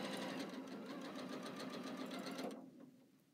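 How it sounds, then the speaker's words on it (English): A sewing machine stitches quilt half-square triangles in one steady, rapid mechanical whir at close range. It runs continuously, then slows and stops near the end, leaving a short fading tail. "Feed them in. And sew until they're all sewn together."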